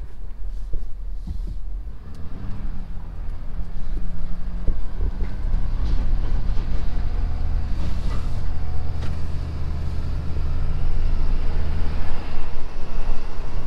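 A 2020 Ford Super Duty pickup with a 10-speed transmission on 37-inch tires pulls away towing a heavy load, its engine a steady loud low rumble with road and wind noise throughout.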